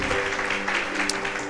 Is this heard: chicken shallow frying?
no